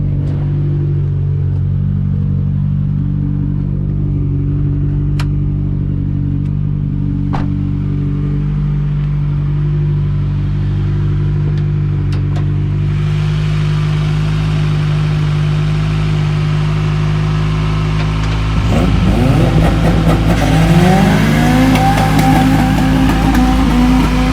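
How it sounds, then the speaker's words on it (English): A CB7 Honda Accord engine, not started in at least a month, cold starts and idles with a steady low rumble close by, then rises in a louder rev toward the end. "I figured we could get a Accord cold start going."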